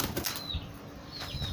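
A brief burst of pigeon wings flapping close by, a fluttering rush of air with a faint whistling tone.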